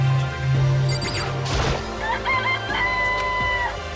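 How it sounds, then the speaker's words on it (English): Chickens cluck and a rooster crows in the Danganronpa video game. The calls are fairly loud and come in a busy string of squawks, with a drawn-out crow near the end over a steady background. "It's a chicken."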